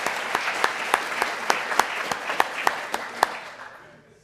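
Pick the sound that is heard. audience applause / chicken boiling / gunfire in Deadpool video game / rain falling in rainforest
audience applause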